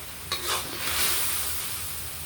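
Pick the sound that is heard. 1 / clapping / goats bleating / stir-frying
stir-frying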